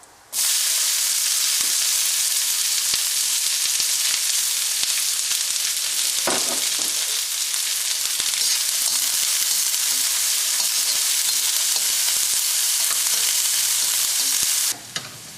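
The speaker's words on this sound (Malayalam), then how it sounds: "ഈ മസാല നന്നായിട്ടൊന്ന് വറുത്ത് കഴിയുമ്പോൾ ഇതിലേക്ക് നമ്മൾ അരിഞ്ഞു വെച്ചിരിക്കുന്ന സബോള ചേർക്കാം." Masala frying in oil in a pan, with chopped onion about to go in: a loud, dense, continuous sizzle from close by, steady for the whole stretch, then cutting off abruptly near the end.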